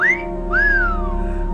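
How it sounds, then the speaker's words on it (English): A clear whistle serves as a game's dungeon-found signal, made of two rising-and-falling whistled notes, loud and close over a low steady hum. "if we find a dungeon, we have a whistle sound"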